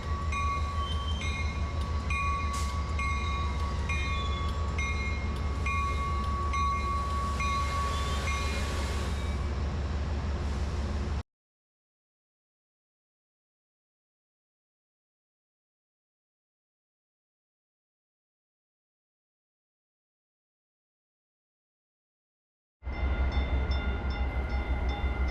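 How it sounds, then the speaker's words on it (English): A Trinity Metro TexRail commuter train from Dallas Union Station arrives at a Fort Worth station, rumbling steadily with a sustained tonal whine and a brief horn-like tone, runs about eleven seconds, stops abruptly, then resumes after a long silence. "Arriving here is a Trinity Metro train from Dallas Union Station."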